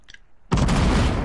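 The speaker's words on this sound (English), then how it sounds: "I hear explosions." In a video game, a sudden loud, broadband explosion kicks in midway and rumbles on as sustained explosive noise after a brief quiet stretch.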